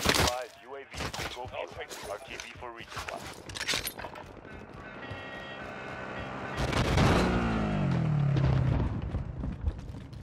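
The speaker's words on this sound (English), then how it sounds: "Those guys over here shooting at me." A video game shooter's gunfire comes in scattered bursts of sharp shots mixed with louder rumbling blasts, heard under a player's frequent talk.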